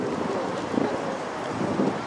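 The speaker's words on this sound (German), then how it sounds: "Es weht ein Wind, ja." Outdoor wind buffeting a microphone at a German vigil, a steady broadband roar with gusty swells around the middle and the end, loud and close with no talk over it.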